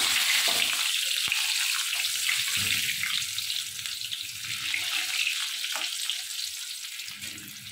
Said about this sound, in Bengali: এখানে আমি আলুগুলো আগে ভেজে নেব। আলুগুলো আমি দিয়ে দিলাম কড়ার মধ্যে।